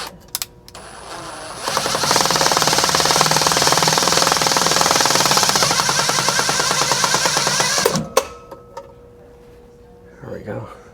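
Power drill whining loud and close for about six seconds during a repair job, starting abruptly after brief clatter and stopping sharply, followed by handling noises and a short burst near the end.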